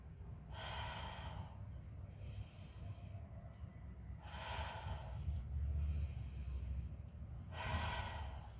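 Three slow, deep yogic breaths taken outdoors during a cow pose, each a broad airy rush of inhale or exhale, evenly spaced and close, over a steady low background hum.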